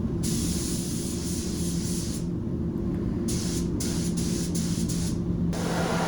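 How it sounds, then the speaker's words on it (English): A spray gun lays a dust coat of car paint onto a panel, a loud continuous hiss that cuts out briefly between passes, close to the listener, with no talking. "I like to put the dust coat on nice, so it's nice and dull, no gloss at all."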